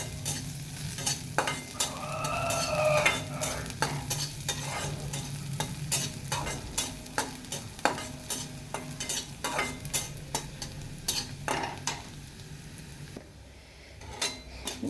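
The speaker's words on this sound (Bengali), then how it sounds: "ভালো করে আমি ভেজে নেবো এই মসুর ডালটা তেলের সাথে" Masoor lentils sizzle and fry in oil in a pan while a utensil stirs them, sending out frequent sharp scrapes and clinks against the metal over a steady crackle. The cooking stays close and moderately loud throughout, with no voices.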